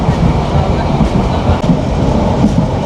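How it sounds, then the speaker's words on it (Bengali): The Probal Express from Cox's Bazar to Chattogram rumbles along at speed, a loud, dense low roar of wheels and carriage with faint rhythmic clatter, heard from inside the train. "আমাদের ট্রেন কক্সবাজার থেকে সারি আসার পরে দুর্দান্ত গতিতে ছুটে চলছে"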